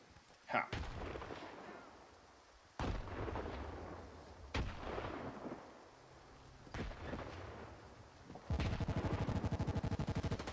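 Rifle shots crack out in S.T.A.L.K.E.R. 2 on PS5: a few loud, separate gunshots with echoing tails, then a rapid, sustained automatic burst at the end.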